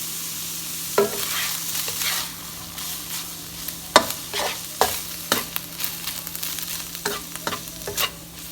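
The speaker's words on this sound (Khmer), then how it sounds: "ខ្ញុំនឹងប្រើខ្ទះហ្នឹងសម្រាប់ធ្វើឡាបលាយគ្រឿងចូលគ្នា" Pork larb ingredients are mixed in a pan, with a series of distinct scraping and clanking stirring strokes over a soft sizzle, close and fairly quiet, with no talking.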